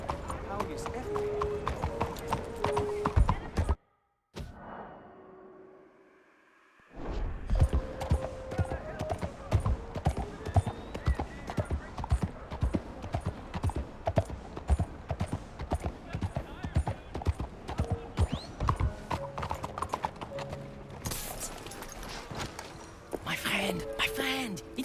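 A horse gallops in first-person play of the video game Red Dead Redemption 2, its rapid hoofbeats pounding continuously apart from a brief pause, with voices talking over them.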